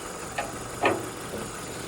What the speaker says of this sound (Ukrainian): двигунчик працює гарно